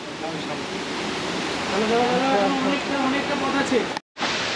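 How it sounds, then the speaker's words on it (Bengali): Nohkali-kai waterfall in Meghalaya roars as a steady, broad rush of falling water, loud and close, with a brief dropout near the end. "এইখানে ঝর্ণা আছে না"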